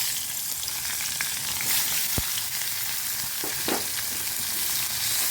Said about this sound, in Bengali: এরপরে আমি পেঁয়াজ আর ক্যাপসিকাম দিয়ে দিচ্ছি।